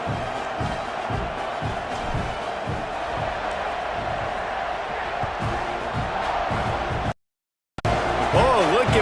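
Video game football stadium crowd, a steady loud roar with rhythmic thumps and a commentator talking over it, briefly cutting to silence near the end.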